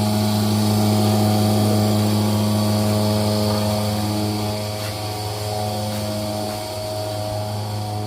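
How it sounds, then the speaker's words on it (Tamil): A freshly serviced cow milking machine runs steadily with its engine and pump fully overhauled, giving a loud, continuous mechanical hum with strong low tonal drone and broadband hiss, close by and unbroken throughout, dipping slightly near the end. "மிஷின் ஓடுது"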